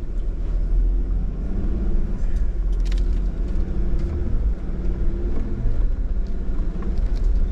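Jeep on the rocky red rock Broken Arrow trail in Sedona, a continuous low engine and tire rumble with wind buffeting the microphone, steady and close throughout.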